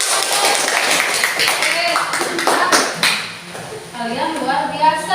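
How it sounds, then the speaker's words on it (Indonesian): Students applaud in an Indonesian classroom during a practice-teaching lesson, a short burst of claps overlapping with a teacher's voice, then fading as speech takes over. "Berikan tepuk tangan."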